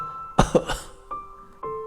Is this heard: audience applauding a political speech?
no